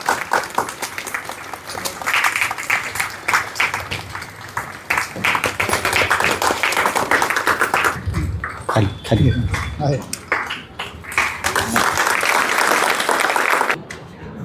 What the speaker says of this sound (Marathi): टाळ्यांच्या गजर व्हायला पाहिजे